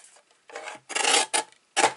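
Paper card front being trimmed in half for a handmade floral card, giving several short rasping cuts in quick bursts, close and fairly quiet with no talking.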